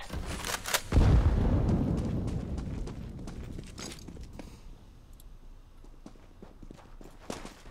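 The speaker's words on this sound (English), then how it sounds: "Grenade out." A grenade blast in Counter-Strike: Global Offensive, one heavy low boom about a second in, followed by a long rumbling decay and scattered footsteps and game clatter.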